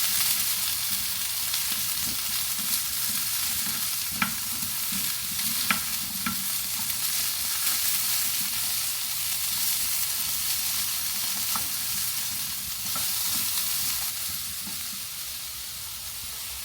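Asparagus and shrimp sizzle steadily in a hot pan, honey lime style, with a constant loud frying hiss and occasional faint stirring clicks, no voices.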